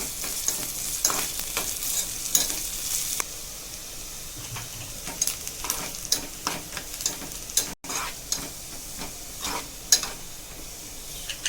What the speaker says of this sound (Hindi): तेल गरम हो गया है, इसमें आप कांदा डालेंगे। कांदे को हल्का ब्राउन होने तक इसको फ्राई करेंगे।